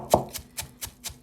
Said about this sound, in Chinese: 我们呢随便再给它剁几下